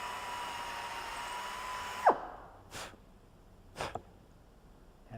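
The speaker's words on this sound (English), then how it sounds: "So I've got myself a number 40 drill bit, and I'll drill right into this piece of wood." A drill with a number 40 bit bores into a piece of wood, whirring steadily and close for about two seconds before winding down, followed by a few soft clunks.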